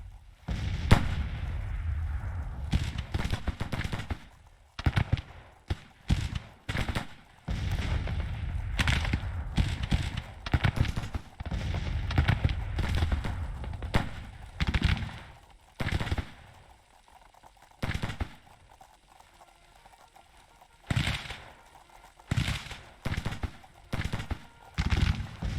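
Battlefield gunfire and artillery in the Civil War strategy game Grand Tactician during a Union campaign: rapid, overlapping volleys and booming shots roll on almost continuously, with a few brief lulls between dense clusters of reports.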